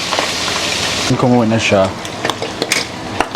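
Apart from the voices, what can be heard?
cooking oil splattering in a pan while cooking pinakbet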